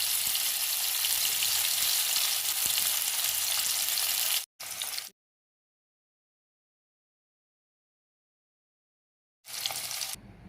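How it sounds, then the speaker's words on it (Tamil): Marinated masala fish frying in hot oil in a pan, giving a loud, steady sizzle for several seconds that cuts out abruptly, then returns briefly in short bursts. "அதை வானலில் எண்ணெய் ஊற்றி வறுக்க வேண்டியதுதான்"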